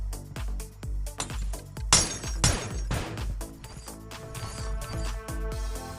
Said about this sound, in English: if you whack the glass hard enough with your hand, you can actually break it